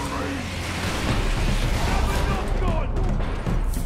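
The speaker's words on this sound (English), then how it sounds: "Orc rocket launchers on the high ground." Ork rocket launchers firing from high ground in the video game Space Marine, a dense, loud barrage of blasts and rumbling explosions running throughout, with a voice speaking over the din.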